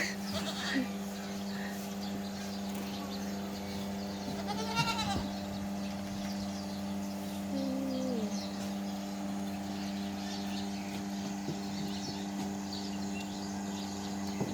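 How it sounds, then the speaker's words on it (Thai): Dairy goats on a large farm bleat now and then over a steady background hum, with a few wavering calls from fairly close by and someone talking at times. "แพะนมนะคะ"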